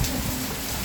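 Heavy rain at night at a coconut orchard house in Amphawa, Samut Songkhram, a loud dense hiss of downpour hammering steadily with no voices.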